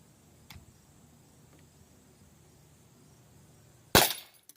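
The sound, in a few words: Umarex T4E .50 cal pistol firing metal shot at target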